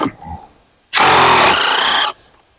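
A DEWALT 20-volt impact driver breaks a torqued bolt loose in one loud burst of rapid hammering lasting about a second, preceded by faint handling noises and silence.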